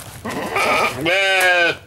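Goats bleat in a pen, two drawn-out, quavering calls one after the other, close and loud with no talk over them.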